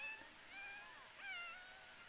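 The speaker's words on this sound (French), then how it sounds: "les petites, je sais pas ce qu'elles ont, mais elles crient tout le temps, les chattes." A virtual cat in the video game The Sims 4 meows faintly, two or three soft wavering cries in quick succession, alone and quiet.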